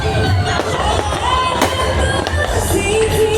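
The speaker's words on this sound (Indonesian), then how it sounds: "pengunjung mulai menyalakan kembang apinya" Small fireworks set off by visitors on New Year's Eve in the Simpang Lima square crackle and pop in scattered bursts over a steady murmuring crowd.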